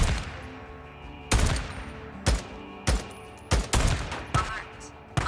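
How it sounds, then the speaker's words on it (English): Gunfire in the video game Days Gone: about half a dozen loud, sharp shots crack at irregular intervals, some in quick pairs, each decaying briefly before the next. "Multiple shots have been fired."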